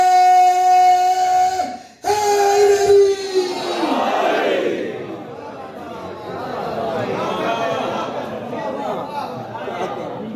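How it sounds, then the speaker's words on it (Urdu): At a Shia majlis in an imambargah, a crowd raises both hands and chants slogans: loud sustained voices in unison, a brief break, then a rising roar that fades into a broad, rumbling murmur of many people. "پہلے بندے سے لے کے آخری بندے تک دونوں ہاتھ بلند کرتے نعرے"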